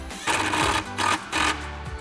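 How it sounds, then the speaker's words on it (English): A ratchet or driver with a 10mm socket on a small extension snugs down the screws of a coolant overflow cover on a Ford F-150. Three close, buzzing bursts sound in quick succession. "we're going to snug down our screws again with our 10mm socket and small extension"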